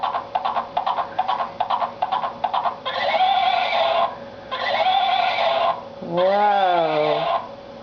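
A toy rocking horse plays a recorded neighing sound: a run of rapid clip-clop beats followed by loud, quavering whinnies, with a descending wavering tone at the end, nearby and continuous.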